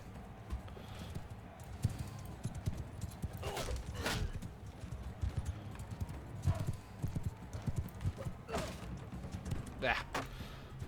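Horse hooves clip-clop in the video game Mount & Blade 2 Bannerlord, rhythmic galloping beats over a low rumbling background, with a few sharper impacts breaking through at intervals.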